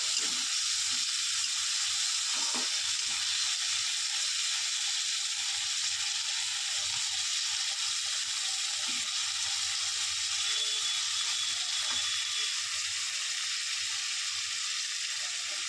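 Ginger garlic paste sizzles steadily in a hot pan while being stirred for a shol fish dish, a continuous loud frying hiss with occasional scraping knocks.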